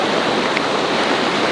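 Spring floodwater rushes near a bridge in Järvsö, Sweden, a loud, steady broadband roar of flowing water with no voices in it.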